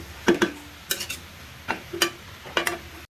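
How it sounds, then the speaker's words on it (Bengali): Spatula or spoon stirring bottle gourd (lau) bhaji in a pan, giving several short scraping clatters in an uneven rhythm, close and fairly clear over a faint background. "ভালো করে হচ্ছে আমি লাউ দেওয়ার পরে হচ্ছে ভালো করে নেড়ে নিচ্ছি।"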